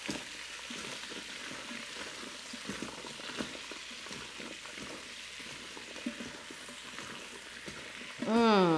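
Vegetables stir-frying in a Ninja Foodi 360 as grated ginger goes in, giving a steady close sizzle and frying crackle with faint stirring scrapes, with a brief louder burst near the end.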